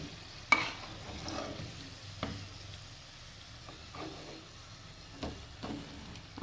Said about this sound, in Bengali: আর ঢিপে রেখে দিয়ে ভাজলে এটা একটু ভালো হয়